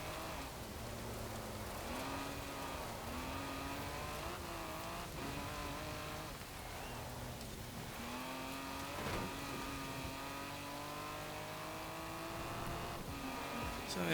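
A 1969 Toyota 2000GT races offroad in Forza Horizon 4, its engine droning steadily loud throughout with rising and falling revs as gears shift and tires rumble over rough ground.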